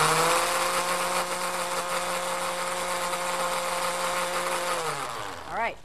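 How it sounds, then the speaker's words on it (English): A blender whirs steadily as it mixes a homemade summer salad dressing with a light oil, a loud continuous motor drone that winds down and stops near the end. "I love to do quick, easy summer dressings, salad dressings, homemade dressings in the blender."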